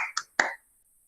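Two sharp hand claps, a short one followed by a louder one, in a Holy Week meditation setting, then silence.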